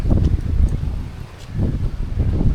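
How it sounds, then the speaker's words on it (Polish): Strong wind buffets the microphone outdoors, a low rumbling roar in uneven gusts that dips briefly mid-clip and then surges again, with no one speaking. "Dalej jest ten silny wiatr"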